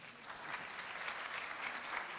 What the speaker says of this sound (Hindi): सहमत हो तो तालियां बजाएं